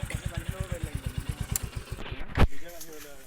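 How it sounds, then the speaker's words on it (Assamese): A new motorcycle engine putters in a fast, steady rhythm of regular low thumps, fairly close and moderately loud, before a sharp clatter and a change in tone near the end. "এইয়া ভিনদৌৰ নতুন বাইক চলাই আছে"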